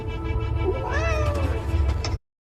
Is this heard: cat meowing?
yes